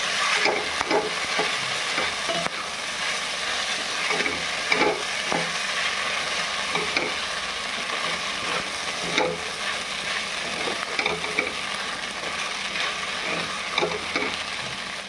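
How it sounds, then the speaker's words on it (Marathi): Soaked sabudana is sautéed in a pan over lowered heat, a continuous close sizzle broken by repeated scraping and stirring strokes of a spoon. "आणि हे सर्व परतून घेऊ।"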